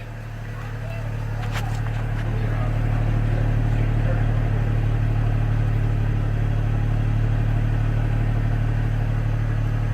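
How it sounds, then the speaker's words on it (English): A GM 4.2L Envoy/Trailblazer engine idles steadily and smoothly through its exhaust at close range, a low droning hum with no revving. "For what the exhaust sounds like."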